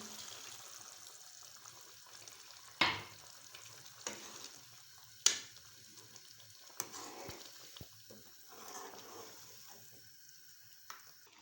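Chicken spinach curry sizzling and frying in a pan after milk is added, a soft continuous bubbling hiss broken by several sharp clinks and scrapes of a utensil.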